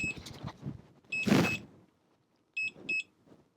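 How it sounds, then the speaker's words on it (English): Short electronic overload alarm beeps from a Pecron E1000 portable power station sound in bursts, a double beep early and two more beeps later, over scattered handling noises and clatter. "And listen to the alarm."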